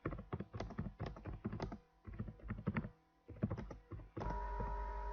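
Rapid keystrokes on a computer keyboard as a unit test is typed out, in bursts of clattering taps separated by short pauses, close and clear with no talking.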